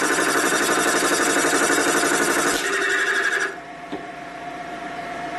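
A machine cutting a gear for a 1942 Harley-Davidson WLA/WLC 45 cubic inch transmission, a loud continuous buzzing mechanical whir that drops and changes pitch partway through.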